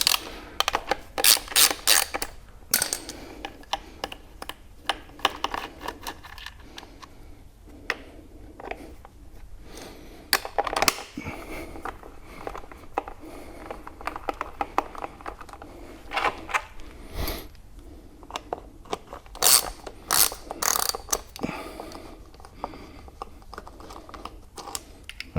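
A hand ratchet clicks in quick bursts while removing mudguard bolts on a BMW R1200 GS, with close, crisp pawl ticks and short pauses of light metallic handling.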